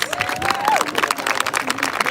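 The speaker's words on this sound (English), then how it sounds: "give her another round of applause" An audience at an outdoor candlelight vigil for the missing claps in a steady patter for about two seconds, with a voice rising over the applause and wind noise in the background.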